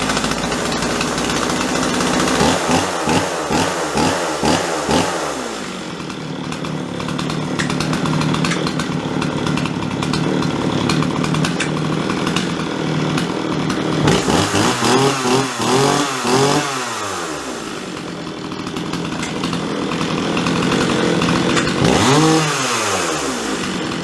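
A slightly flooded Jonsered 535 chainsaw runs loud and close, its engine revving up and falling back in rough surges with uneven, sputtering idle between the bursts.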